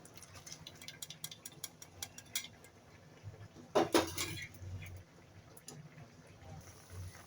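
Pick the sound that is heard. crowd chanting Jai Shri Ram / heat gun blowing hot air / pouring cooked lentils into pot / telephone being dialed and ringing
pouring cooked lentils into pot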